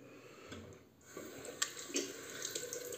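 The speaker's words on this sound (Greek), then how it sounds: "θα ρίξω μόνο ζεστό νερό στο πρόσωπο." Hot water running from a tap into a sink before shaving, a soft steady flow with faint splashes and a few brief clinks, quiet and close, alone without speech.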